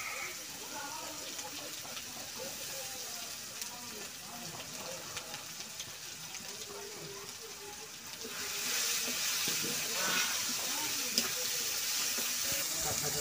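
Dried chilli, garam masala and ripe tomato paste sizzle in a pan while a meat and taro curry is cooked, a steady close frying hiss that grows louder about two-thirds of the way through, with a voice talking quietly underneath.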